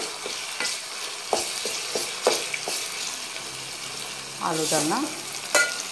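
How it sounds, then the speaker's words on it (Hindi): Ginger garlic paste fries with onions in a pan, a continuous sizzle with occasional clatters and stirring knocks, while a voice speaks briefly over it. "प्याज के साथ ये भी थोड़ा सा फ्राई होने के बाद"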